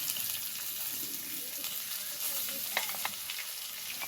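Chopped tomato, green chilli, chilli powder, turmeric and salt sautéing in a pan for Tangra fish curry: a steady, fairly quiet sizzle with occasional stirring scrapes and taps.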